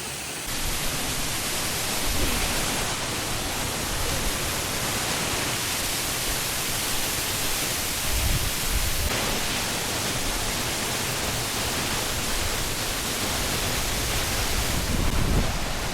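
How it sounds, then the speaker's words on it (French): A waterfall in Senegal's Kédougou region roars as a steady, dense rush of falling water, loud and unbroken throughout with no voices. "les chutes étaient incroyables"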